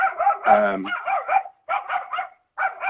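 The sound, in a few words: dog barking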